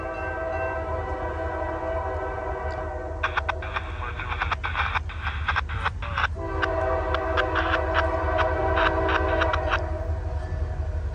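A long freight train rumbles past a rail crossing, its steady low roar joined by clanking railcars and sharp metallic squeals and clatter, with a horn-like tone sustained partway through, loud and close throughout.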